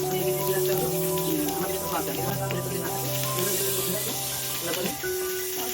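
Onion sizzles as it fries in soybean oil with bay leaves and cardamom, a steady crackling hiss beneath a person talking.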